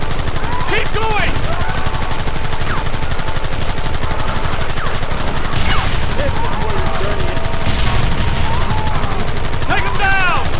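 Dense, continuous gunfire from a shootout in the video game Red Dead Redemption Remastered, rapid overlapping shots and ricochets under shouted voices, loud and sustained throughout.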